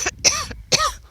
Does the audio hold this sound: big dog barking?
no